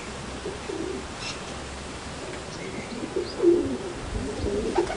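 Pigeons coo in a backyard loft, soft low throaty calls repeating every second or so against a quiet hissing background, a slightly louder coo standing out midway, no voices.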